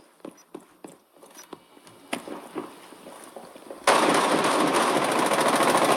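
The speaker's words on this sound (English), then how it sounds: "I hit him with a shotgun" Shotgun shots in the tactical shooter Rainbow Six Siege, a series of sharp close reports spaced irregularly, followed by a sudden loud sustained burst of noisy rapid fire.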